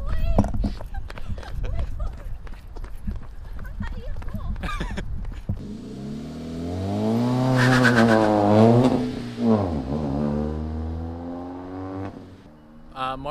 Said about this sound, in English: Now this exhaust is a J2 Engineering DNA